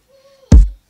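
A summed sample merge triggered on a Roland SP-404 MKII sampler: a faint sustained tone, then one loud, abrupt, booming hit with a bright top that decays within about a third of a second.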